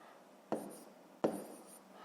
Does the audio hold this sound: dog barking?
no